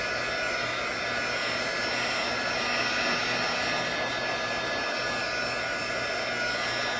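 A handheld dryer blows hot air over distress oxide ink on photo paper, a loud, steady, close whirring rush that holds unchanged throughout without any speech.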